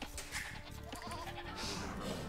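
Sheep bleating repeatedly in a medieval strategy video game, several short calls over steady game sounds and background music, fairly loud throughout.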